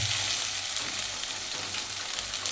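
Chili powder being stirred into masala frying in a pan, giving a continuous close sizzle with light stirring movement underneath, no talking.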